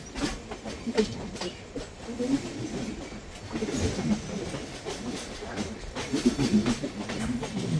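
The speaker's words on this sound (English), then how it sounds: "now also the train is doing a very fantastic run" The Vidarbha Express train rumbles along the rails between Thane and Kalyan with a steady low roar and faint rhythmic clatter, continuous throughout at moderate volume, with no talking.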